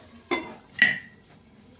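Potatoes and masala for a fish curry being stirred in a pan, two or three sharp metallic scrapes and clinks of a spatula against the pan over a faint background sizzle.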